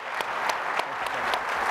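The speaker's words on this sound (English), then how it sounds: "Let's give them a round of applause." Applause at an award ceremony for golfer Ernie Els: a moderately distant audience claps steadily for the whole short stretch, with a few sharper individual claps standing out.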